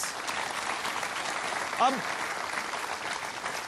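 Studio audience applause on the KBC (Kaun Banega Crorepati) television quiz show: dense, steady clapping fills the whole stretch, with a single spoken word briefly cutting in midway.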